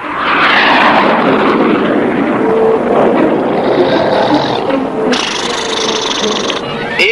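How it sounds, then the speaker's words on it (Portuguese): An automatic pilotless airplane in a 1978 cartoon flies with a loud, continuous engine drone that swells and shifts in pitch, with a sudden change in tone partway through. "o avião automático está pronto para começar as suas sensacionais manobras"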